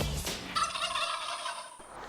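Wild turkey gobbling in the woods before dawn, a rapid rattling gobble lasting a couple of seconds, moderately distant and set against faint outdoor background noise.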